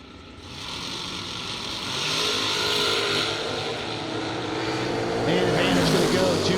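Drag racing cars, including a Nova, accelerate hard down the racetrack at a St Patrick Classic event, giving a steady, loud engine roar that builds and holds under a public-address announcer's talk.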